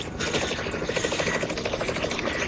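A helicopter in a video game flies steadily, with a continuous rhythmic rotor chop and engine drone that holds at an even level throughout, with no voices.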